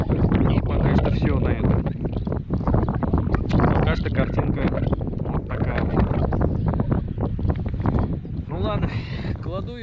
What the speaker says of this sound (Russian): Ветер просто жуткий.